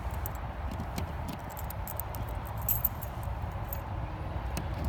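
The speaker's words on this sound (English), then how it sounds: "Also, the car has the original Briggs & Stratton keys." Original Briggs & Stratton keys for a classic car with a power antenna jangle in small, scattered metallic clinks over a steady low background hum, close and fairly quiet.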